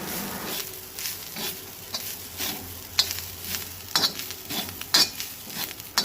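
Grated coconut roasting in a pan for a Goan dish, with a soft steady sizzle and repeated scraping stirs of a spoon against the pan, plus a few sharper metallic clinks.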